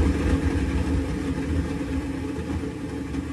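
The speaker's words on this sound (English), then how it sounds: "you just hear kind of the motor, no chopping" A garbage disposal motor hums steadily at close range, a continuous droning whir with no chopping or other changes.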